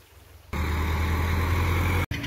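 A Sonalika tractor engine drones steadily close by after a brief quieter start, its deep low rumble constant for nearly two seconds before cutting off briefly near the end.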